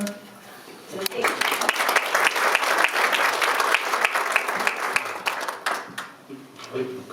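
Audience applause at an evening law enforcement award gala, steady claps that rise after a second and hold, with a voice briefly audible at the start and end.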